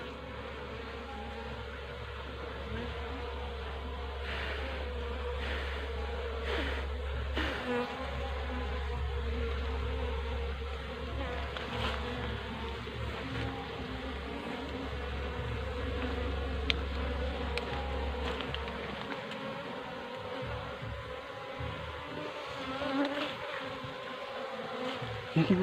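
Honey bees swarming around a nest, a dense, steady buzzing hum close by that continues without pause, with no talking.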